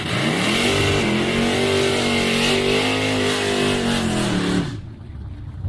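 A Mazda drag racing car launches and accelerates hard down the strip, its engine roaring loud with a rising pitch through gear changes before cutting off sharply near the end, leaving quiet background.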